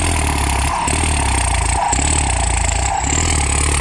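A tuned turbocharged Ford engine running hard and loud up close, a dense steady drone broken by three brief dips as the revs drop and climb again.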